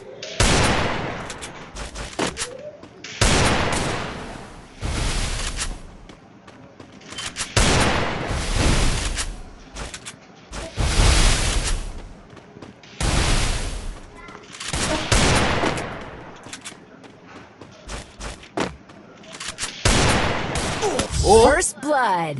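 Bursts of gunfire crackle through a video game custom match with headshots, coming as loud repeated volleys separated by brief pauses, with a voice talking underneath.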